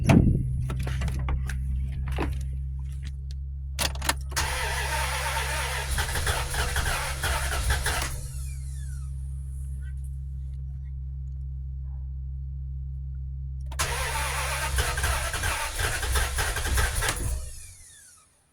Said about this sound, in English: We're about to hit engine start again.